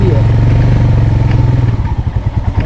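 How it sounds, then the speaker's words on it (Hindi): A heavily loaded motorcycle rides slowly over stones and rubble on a Leh Ladakh mountain route near Keylong, its loud, close engine drone joined by irregular clatter and thumps as the terrain roughens. "बाइक बड़ी संभाल के जानी पड़ रही है यहाँ पे, क्योंकि ना रोड़ा भी है और मलबा भी है"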